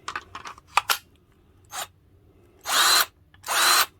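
A Hart cordless drill whirs in a few short bursts, preceded by small clicks and handling taps, then two longer, loud, close runs of about half a second each.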